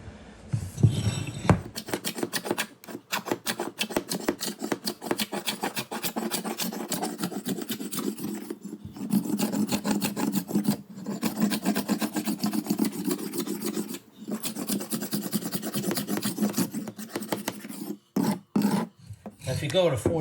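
A hand scraper rasps across 80+ year old wood floors in repeated rhythmic strokes, a close, loud scraping sound broken by short pauses between passes.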